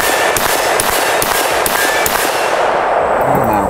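Suppressed rifle shots from a Springfield Hellion or IWI X95 Tavor, several sharp loud cracks in quick succession outdoors, followed by a fading tail, with no talking.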